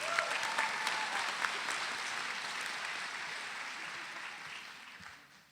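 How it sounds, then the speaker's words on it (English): A round of audience applause at a Stanford Black graduation ceremony honoring Jan Barker Alexander, steady and moderately distant, gradually thinning and fading out toward the end. "One round of applause for her."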